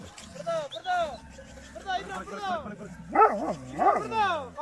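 A dog gives a run of yips, whines and barks, high and close, with a person's voice mixed in among them.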